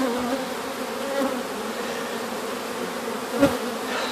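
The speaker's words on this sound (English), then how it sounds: "I've been vacuuming bees, and there's a lot of them." A dense swarm of honeybees buzzes steadily and close during a hive removal in Bartow, Florida, a continuous insect drone with one brief louder bump near the end.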